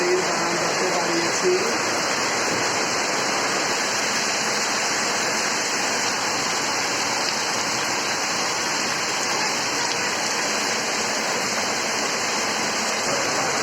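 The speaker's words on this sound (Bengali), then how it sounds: "আমার মনে হচ্ছে না যে বৃষ্টি আজকে ছাড়বে" Heavy, steady rain pours down in a dense, constant hiss with no letup, close and loud throughout.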